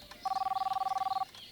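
An electronic phone ringtone in a Hindi animated series: a single pulsing, beeping tone that lasts about a second over a faint background.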